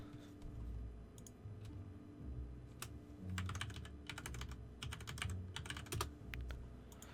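Rapid keystrokes on a computer keyboard while entering text into an Excel spreadsheet, coming in irregular bursts of close, crisp clicks over a low steady background hum.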